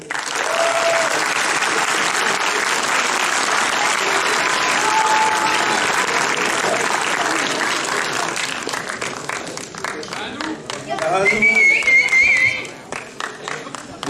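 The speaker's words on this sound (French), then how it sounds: "Je vous demande d'applaudir Paul Deby." A cinema crowd at a film premiere of 4 zéros applauds as actor Paul Deby is introduced: dense, loud, sustained clapping that thins into scattered claps with cheers and voices near the end.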